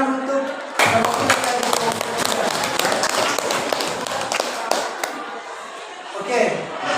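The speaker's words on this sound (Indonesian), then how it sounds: "Oke, tepuk tangan untuk" Classroom students clap together at the end of a lesson, a dense burst of many hands with sharp individual claps standing out, close and lively, with voices talking over it before it fades.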